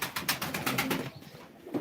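Pigeons at a live pigeon auction coo in a soft run of rhythmic pulses, fairly faint, with a few brief flutters mixed in and no talk over them.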